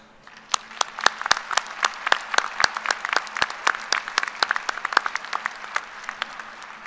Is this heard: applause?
yes